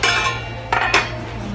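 A metal hot pot is handled in a Williams Sonoma outlet store: a few sharp clinks and clatters of cookware against metal, close and brief, over a low steady hum.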